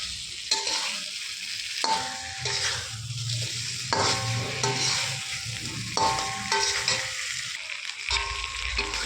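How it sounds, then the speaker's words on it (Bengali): Fried fish stirred into a sizzling spice masala for an eggplant jhal curry: steady close frying sizzle with repeated scraping stir strokes in an uneven rhythm, and no talking. "ভাজা মাছগুলো দিয়ে আমি হালকা করে নেড়ে চেড়ে নেব।"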